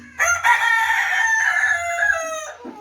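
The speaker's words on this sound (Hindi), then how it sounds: "वो असल में अंडा दे रही है मुर्गी।" Brown and white hens kept at home, one sitting inside laying an egg, giving a loud, close, drawn-out cackling call lasting over two seconds, then a short cluck at the end.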